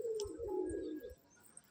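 A pigeon on a house rooftop gives a single low, throaty coo lasting about a second, fairly close and clear over quiet background noise, with a faint chirp near the start.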